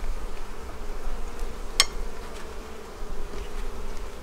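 Honeybees hum at an opened hive during a Demaree split, a steady close buzz filling the whole stretch with one brief sharp click near the middle.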